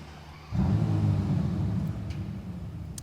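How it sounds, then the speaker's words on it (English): A Bentley Continental GT W12 Mulliner's twelve-cylinder engine fires up after a moment of quiet, a sudden deep rumbling bark that settles into a steady low idle, heard close and alone. "We'll be starting up the car now. 3, 2, 1, listen to this."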